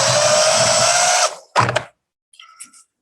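A power drill drives screws through door jambs during door installation, one loud whirring burst of about a second, then a sharp short second burst and a faint brief whir trailing off.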